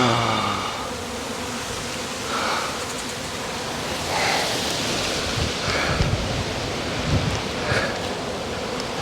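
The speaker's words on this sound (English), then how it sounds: "And you hear lots of buzzing while you're doing this" Dense, steady buzzing of a bee swarm being handled up close, a continuous loud drone with no voices.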